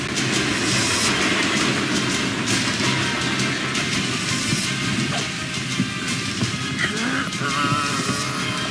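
A train runs on rails in the video game Chase the Express, a steady, loud rumble with clattering wheel noise throughout and no break.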